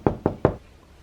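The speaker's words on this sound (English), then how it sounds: "And I heard a knock." Three quick knocks on a door, evenly spaced and close, each a dull hollow thud followed by quiet.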